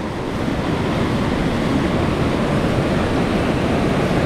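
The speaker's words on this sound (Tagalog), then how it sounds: "At dito naman napakalakas ng tubig. Sobrang lakas ng tubig." A loud, continuous roar of strongly rushing water at Santa Barbara Dam, dense and unbroken, close by throughout.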